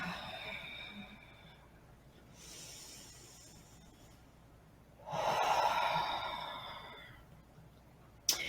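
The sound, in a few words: deep breathing during a breathing practice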